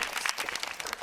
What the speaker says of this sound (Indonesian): Tepuk tangan dulu untuk bintang tamu kita, Jojo.